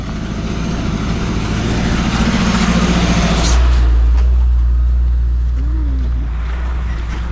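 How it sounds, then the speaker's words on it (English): A brand new Isuzu truck loaded with sand from a mining site rumbles past close by on an outskirts road near Kisumu, a heavy low engine drone swelling loudly then easing away amid outdoor street noise. "So that truck is full of sand."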